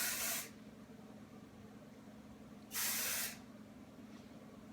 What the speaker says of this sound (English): And then the rest of the hair I'm just going to spray a little bit.